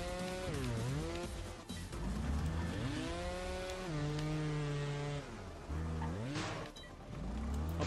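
A motorbike engine in the video game Trials Fusion, revving up and down repeatedly with rising and falling whining pitch as the rider throttles through the course, moderately loud and without talk.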